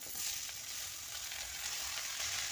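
Ash gourd pieces cooking with fried onions in a pan, a steady bright hiss of frying with faint stirring underneath, close and even throughout.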